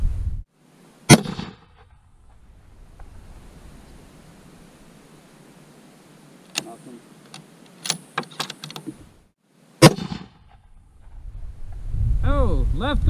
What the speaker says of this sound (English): We're gonna send it for a second shot.